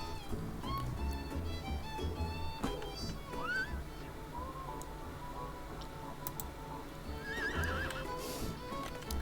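Horse neighing and whinnying in a horse rescue video game, with hooves clip-clopping steadily underneath and a couple of sharper whinnies rising above the game's other sounds.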